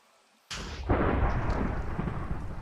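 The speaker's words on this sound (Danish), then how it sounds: "Jeg er rimelig sikker på, at der seriøst lige var et lyn," A lightning strike in Minecraft hits suddenly after half a second of near silence: a loud, sharp crack, then a deep, rolling thunder rumble that lingers without fading out.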